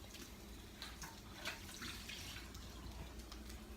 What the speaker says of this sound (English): Let me put some water.